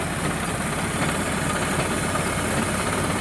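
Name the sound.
tractor engine running, powering sprayer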